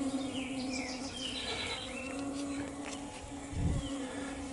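Guaraipo stingless bees buzz around their hive in shifting, overlapping whines close by, with a brief low thump near the end.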